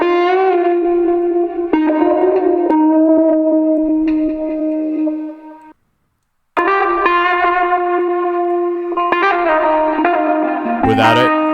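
Soulful electric guitar chords run through lo-fi processing with boosted mids, sustained and full with echo and chorus-like wash, pausing briefly near the middle before the warm, slightly gritty playing resumes; no voices.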